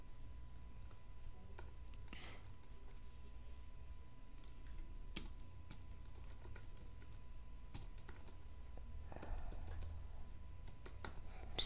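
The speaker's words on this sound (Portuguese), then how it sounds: "eu tô digitando ruim hoje" A computer keyboard clicks in quick, uneven bursts of keystrokes while HTML code is being written. The taps are faint and close, over a quiet room hum, with no voices.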